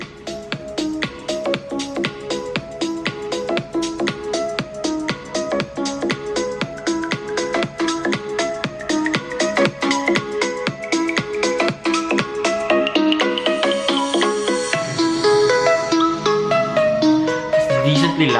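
Songs play through a small JBL Clip 2 Bluetooth speaker, a steady, fairly loud stream of music with a dense beat and layered tones that continues without a break for the whole stretch.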